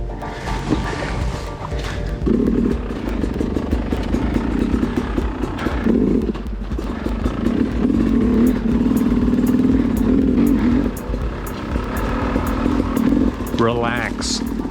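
An enduro dirt bike engine labours over rocky terrain, a continuous buzzing drone with clattering, uneven throttle surges, while people talk over it.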